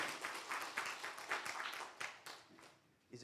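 Applause from a church congregation during a Korean ordination and retirement service for church officers, a fairly faint spread of clapping that thins out toward the end.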